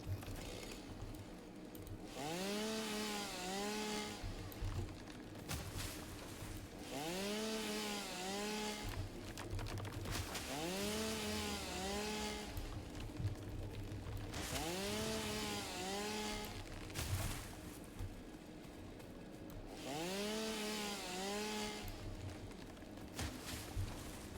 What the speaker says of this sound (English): Let's go ahead and get out my chainsaw. Start cutting down trees.